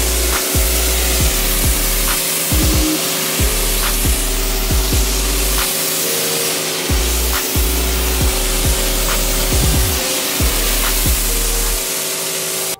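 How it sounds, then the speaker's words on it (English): A pressure sprayer hisses steadily and loudly as it rinses foam off a car outdoors. The spray runs continuously up close, with low mechanical hum and periodic clicks or pulses underneath, and no talk. "Now you just slap your regular pressure spray"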